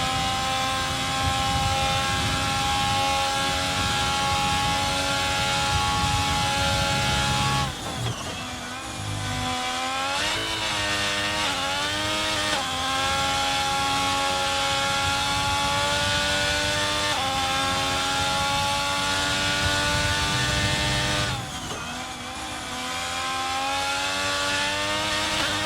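A Formula 1 car engine in the F1 2022 video game screams at high revs on an opening lap in Spain, loud and sustained. It dips briefly on downshifts around corners and then climbs again, with no talking.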